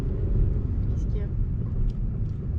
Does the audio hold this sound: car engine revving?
yes